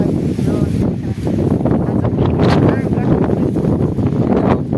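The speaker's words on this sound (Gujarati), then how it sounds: "બહુ પવન છે પણ ક્યારેક પડી જાય છે, ક્યારેક આવે છે, ઝટકા મારે છે પવન" Loud, gusty windstorm wind buffets the microphone in surges that rise and ease, with voices talking underneath the roar.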